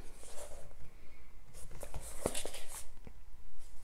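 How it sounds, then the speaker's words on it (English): Pen scratches and taps across lined paper in a hardcover journal, short irregular strokes close up, fairly quiet with a faint background hiss. "I'm almost done writing in this one."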